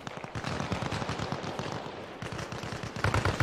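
Rapid bursts of automatic rifle fire crack close by in the video game Arma Reforger, with dense volleys broken by brief pauses and a heavier, louder burst near the end.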